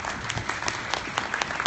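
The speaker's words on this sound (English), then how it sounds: "Round of applause." Applause from an audience at a technology events talk, a dense wash of many hands clapping with scattered sharper claps, steady and moderately loud for the whole stretch with no voices.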